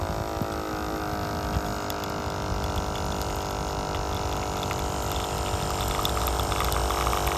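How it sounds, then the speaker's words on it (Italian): An OutIn Mino portable espresso maker pumps out coffee with a steady, close buzzing pump hum and a faint trickle of liquid, running continuously without talk. "Ecco qua, il sibilo l'ha fatto, sta uscendo il caffè."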